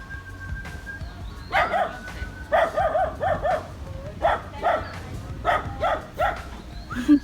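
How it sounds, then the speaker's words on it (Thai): A dog barks repeatedly in short clusters of yips and bow-wows, fairly near, with brief gaps between bursts over a low background hum. "เสียงหมาเห่า"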